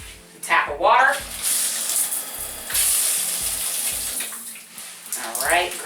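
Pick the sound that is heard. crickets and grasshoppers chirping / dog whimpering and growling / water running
water running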